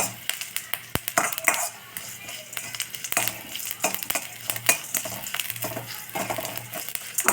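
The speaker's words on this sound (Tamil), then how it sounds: "நல்லா கொஞ்சம் கருவேப்பிலை லைட்டாக கிறிஸ்பர் அளவுக்கு வறுத்துட்டு ஆஃப் பண்ணிடலாம்" Curry leaves and urad dal sizzle and crackle in hot oil in a pan for a Tamil semiya bagalabath tempering, with light stirring scrapes and sharp pops spread throughout, close and moderately loud, with no talking.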